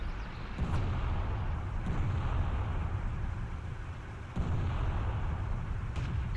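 A tank cannon in World of Tanks, fired from a WZ-120, booms heavily about three times at intervals, each blast loud and close over a steady rumbling engine and battle background.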